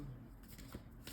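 Tarot cards being shuffled close by, a quick soft riffle of sliding and flicking card edges lasting about a second, quiet and alone.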